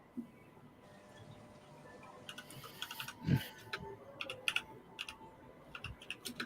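Computer keyboard typing in an aircraft hangar: quiet bursts of close key clicks at an uneven pace over a low steady background hum, with no talk.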